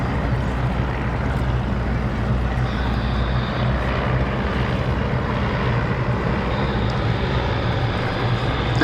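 Formation of aircraft flying over at the IWM Duxford Battle of Britain airshow, a steady, continuous engine drone that fills the whole stretch without pause.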